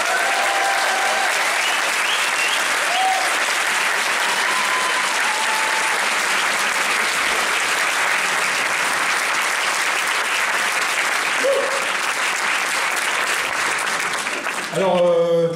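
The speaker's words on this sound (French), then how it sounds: "merci pour tous ces applaudissements incroyables" A large audience at a video game event claps and cheers in sustained, dense applause lasting most of the stretch, with a voice briefly heard over it near the start and again at the end.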